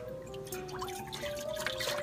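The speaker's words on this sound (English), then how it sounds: "I'm going to pour a half a gallon of whole milk." Whole milk, half a gallon, poured into a pot in a home kitchen: a soft, continuous liquid pour and trickle, fairly quiet and close, with faint drips.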